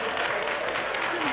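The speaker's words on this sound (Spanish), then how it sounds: "yo esperaba, después de la cabecera, Roberto, entrar con otro aplauso" A short burst of steady clapping from a television studio audience, dense and even throughout.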